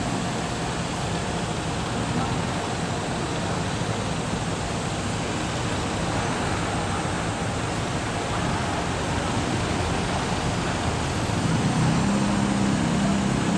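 Morning road traffic in Cubao with many buses passing, a steady, loud wash of engine and tire noise that continues without a break, with a deeper rumble near the end.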